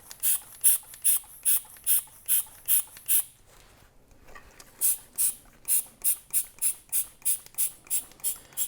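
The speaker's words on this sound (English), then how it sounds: "And then we'll pump it out with the vacuum pump." Rhythmic squeaky hand vacuum pump strokes repeat steadily while bleeding brake fluid from a clutch slave cylinder, each a short airy creak, pausing briefly midway before resuming at the same brisk pace.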